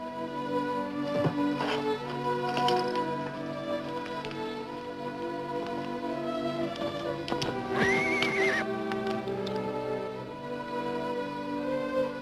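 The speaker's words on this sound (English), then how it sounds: "Put your horse with the other horses." A horse neighs loudly in a long, wavering whinny, with steady hoof clops and other horse sounds around it.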